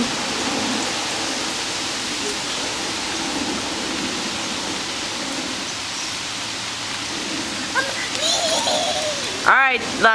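Steady rain falls outdoors as a broadband hiss that stays constant throughout, with a few brief clattering knocks near the end.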